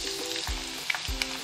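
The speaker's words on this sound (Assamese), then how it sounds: "এইখিনি অকণমান সময় ভাজি থাকিম" Garlic frying in hot oil with bay leaves, cardamom and dried chillies gives a steady close sizzle, with a couple of stirring scrapes in the pan and no talk.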